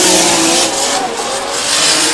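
Drift cars battle at the British Drift Championship at Teesside, engines screaming at high revs in a loud, sustained roar with tyre noise from a trackside position.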